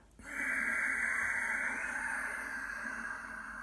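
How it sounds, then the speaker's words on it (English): An ujjayi yoga breath exhale through a narrowed throat gives a steady, airy, resonant hiss lasting about three seconds, close and quiet, slowly fading at the end, with no talk. "as you do ujjayi breath, it'll sound like this."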